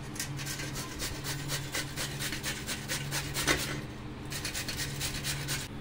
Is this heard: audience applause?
no